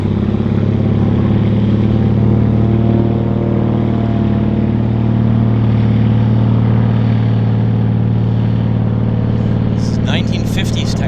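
Round-engine de Havilland Beaver floatplanes departing Vancouver Harbour, their radial engines giving a loud, steady, throbbing drone that holds evenly throughout, with a brief clatter of higher sounds near the end.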